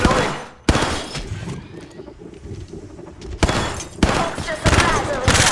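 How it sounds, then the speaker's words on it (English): Enemy gunfire in the mobile battle royale game Apex Legends Mobile: sharp bursts of rapid shots crack out at the start and return in dense volleys near the end, with a quieter lull between and speech mixed in. "They're shooting at me! Hostile right here, right in front of me."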